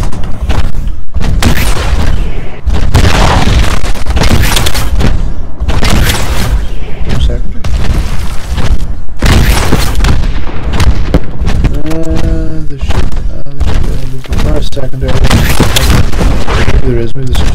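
Titan mech rocket fire in the Titanfall video game: dense, loud blasts and booms follow one another almost without pause, with game voices mixed in.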